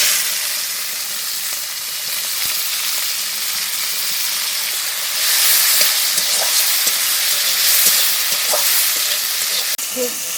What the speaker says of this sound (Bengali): বরবটি ভেজে নেব।